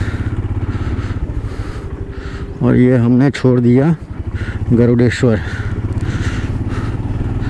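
A motorcycle on a road, ridden along roads in Maharashtra, with a steady loud engine drone and rumbling wind running through the whole recording; someone talks over it briefly in two short bursts.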